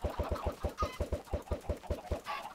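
Minecraft chickens clucking, a quick run of soft, evenly spaced clucks at low volume with no talk.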